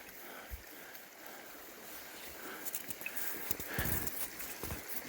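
Lacey Creek, where the Pacific Crest Trail crosses it in a snow-covered part of Tahoe National Forest, rushes as a steady broadband wash of flowing water, with a few nearby dull knocks and thumps over it and no talking.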